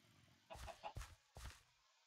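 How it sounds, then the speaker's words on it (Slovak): A video game chicken in PlanetCraft clucks three times in quick, short bursts, clear and fairly close, with no talking. "Počul som sliepku."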